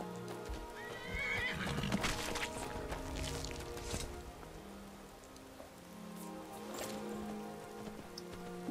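A horse whinnies loudly in Skyrim amid clip-clopping hooves and a steady patter of rain, with further softer snorts and hoof sounds continuing afterward.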